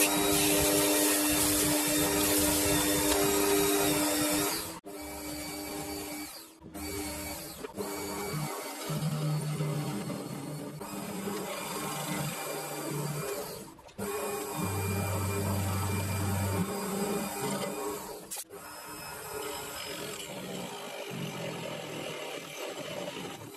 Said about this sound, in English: I had to get a flap disc and just very lightly sand the inside of it